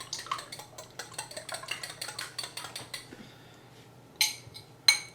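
A fork or whisk beats eggs in a bowl, giving quick, rhythmic light clinks and scrapes for about three seconds, then a pause before two sharper clinks against the bowl.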